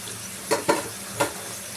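Vegetables fry and sizzle steadily in a pan for a pumpkin-leaf lunch dish as eggplant goes in, with a few short stirring scrapes breaking through the continuous close sizzle.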